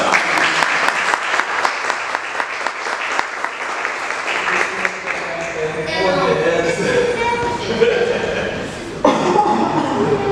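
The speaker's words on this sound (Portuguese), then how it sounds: "Palmas para todos." An audience at a formal induction ceremony for new members of a historical institute claps rhythmically. Later the clapping blends with murmuring voices and some laughter.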